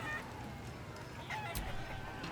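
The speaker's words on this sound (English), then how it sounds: "You just gotta chase the chicken round the course and through the posts." Chickens in a chicken-chasing game in Baldur's Gate 3 make faint, scattered clucks under a low background bed, a brief louder burst midway, with a little voice in the mix.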